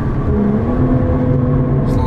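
Steady engine drone from a BMW M340i during a smooth downshift, heard close from the cabin with someone talking over it.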